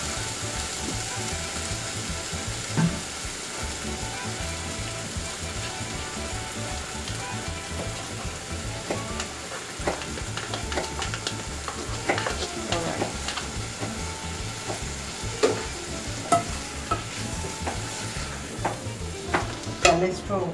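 Onions, peppers and meat sizzle steadily in a pan while being stirred, with scraping and occasional sharper clinks of the utensil over the continuous frying hiss.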